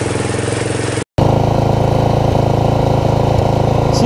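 A sketchy homemade ATV golf cart hybrid engine runs steadily up close, a loud continuous idle with a rhythmic throb, cut by a brief dropout near the one-second mark before resuming just as strong.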